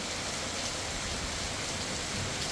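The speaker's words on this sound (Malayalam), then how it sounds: "നല്ലൊരു മഴ എന്താ മഴ ഇപ്പോഴും" Steady, dense rain pours down continuously, a hissing wash of drops with no voices.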